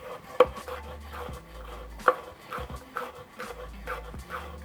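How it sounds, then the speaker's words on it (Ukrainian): Knife chopping a hot chili pepper into small rings on a cutting board in a home kitchen, a run of sharp, close taps with two louder strikes, fairly quiet and without talk. "Нарізаю дрібненькими кільцями."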